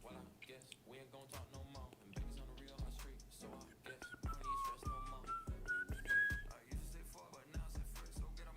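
A person whistles a wavering tune at a computer desk, with keyboard typing and clicks alongside and speech nearby.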